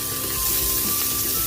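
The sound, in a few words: garlic frying in hot oil for pork dinuguan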